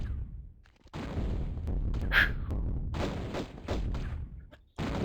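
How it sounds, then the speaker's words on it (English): In Tomb Raider 1's Great Pyramid level, Natla's cannonball attacks make a run of loud, booming blasts, separated by short silences. "So the reason why I hate Natla is because she's a cannonball user."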